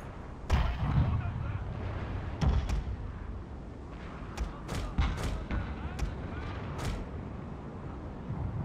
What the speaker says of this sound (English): that ship just took so much fire from this ship. Wow. It's like a machine gun.